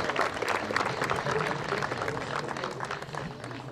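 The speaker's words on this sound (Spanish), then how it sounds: "Un aplauso para Viviana." An audience at an official public event applauds, a dense, continuous wash of clapping that holds steady for a few seconds, with some crowd murmur underneath.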